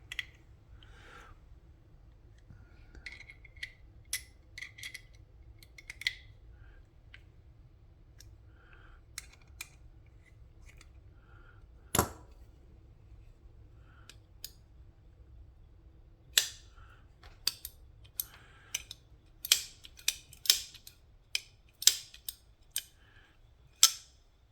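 Tightening the parts of a Twosun TS210 titanium folding knife with a D2 blade and button lock makes quiet, sparse metallic clicks and ticks. They come faster and sharper toward the end over a near-silent background.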